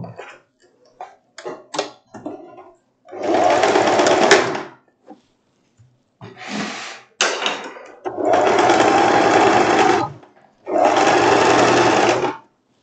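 A sewing machine runs three loud, close bursts of rapid stitching along a dress shoulder seam, separated by handling clicks and fabric rustling.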